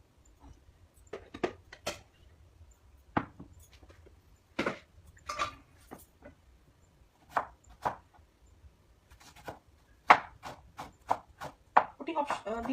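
Sharp, irregular knife strokes chop onion on a board in a home kitchen while potatoes boil, a dozen or so distinct hits with short pauses, near and moderately loud, under faint background hum.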